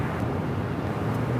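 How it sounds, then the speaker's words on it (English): Spirit Airlines Airbus A320 airliner taking off at LAX, a steady, dense jet engine roar with no breaks, moderately loud and heard from a distance across the airfield. "This is Spirit Airlines 2526 taking off to San Jose on the A320"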